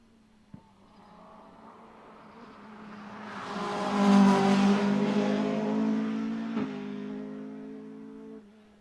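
A Darien GTR race car climbs a hillclimb course, its engine note rising from a distant whine to a loud, close roar as it passes, then fading away under a steady revving tone.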